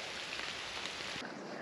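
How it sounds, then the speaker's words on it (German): Steady afternoon rain shower in Peru, its hiss filling the background, continuous and fairly soft, with a slight drop in the texture near the end. "So, da ist der tägliche 14 Uhr Regen wieder."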